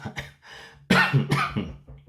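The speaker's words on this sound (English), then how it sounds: "I'm like coughing again" A person coughs several times in quick succession, harsh and close, a short burst of rough coughs alone.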